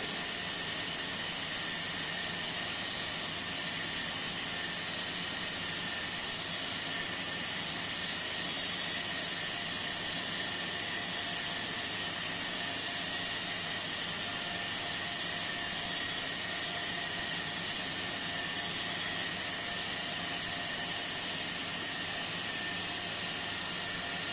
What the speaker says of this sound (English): So I will just gradually increase the voltage. So you can see the motor is going to start